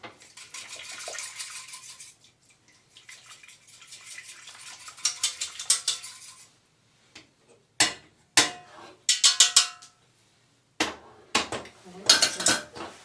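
A metal whisk working a macaroni cheese sauce with leek in a pan, bursts of quick rhythmic clinking and scraping against the pan, separated by short pauses.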